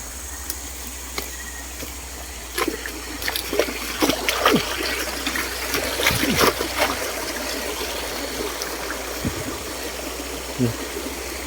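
River water flows steadily with a broad rushing hiss and scattered splashes and gurgles, fairly close, with faint voices now and then.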